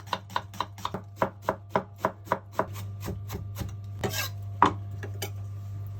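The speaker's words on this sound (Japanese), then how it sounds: "玉ねぎのみじん切りです" An onion being finely chopped with a knife on a cutting board, a quick run of evenly spaced crisp knife strikes, then softer scraping and a few scattered taps, close with a low steady hum underneath.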